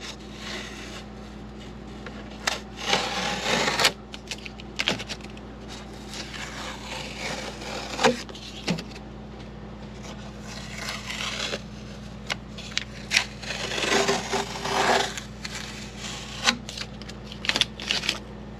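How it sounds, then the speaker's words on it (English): Masking tape peeling off surfaces inside a sailboat during an interior refit, heard as repeated crackly tearing strips in bursts, close and fairly loud over a low steady hum. "So start pulling the tape off here."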